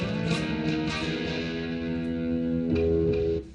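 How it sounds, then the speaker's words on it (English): A sustained, distorted synth-like tone from a Zoom R8 recorder with an echo effect, holding steady with repeating trails before cutting off at the end. "Oh, it's got an echo to it."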